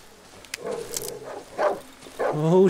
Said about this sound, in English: Stay there, dog.